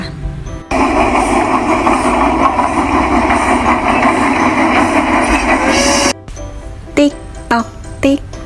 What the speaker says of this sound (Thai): เฉลยคือเสียงของรถไฟค่ะเด็กๆ